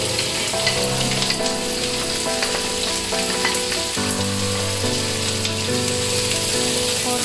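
Sliced onions fry in a pan while cooking a Jaffna-style mutton curry, giving a steady, close sizzling hiss throughout beneath a layer of tuneful background music.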